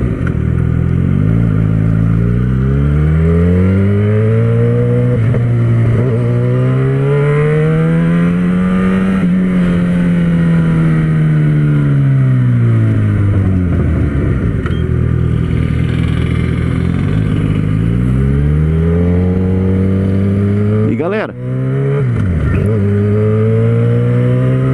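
A Yamaha XJ6 motorcycle engine revs repeatedly, pitch rising and falling in long sweeps, loud and close, with a sharp blip near the end.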